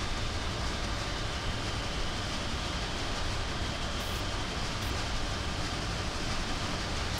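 A train running in Train Simulator 2017, the American Freedom Train special, giving a steady broadband rumble and rail roar that holds constant and uniform without breaks or voices.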